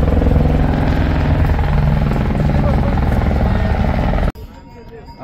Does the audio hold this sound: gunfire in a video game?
no